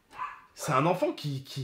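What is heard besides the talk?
dogs barking after the doorbell rang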